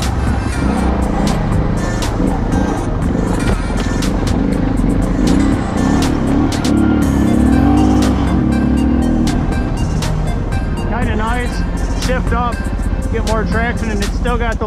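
Suzuki DR 650 single-cylinder motorcycle engine droning steadily and loudly while riding, with a constant rumble and wind noise throughout, and someone talking over it.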